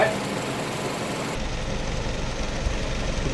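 A motor engine idling steadily during a timing adjustment done by ear, a continuous low rumble that shifts in tone partway through, with no talking.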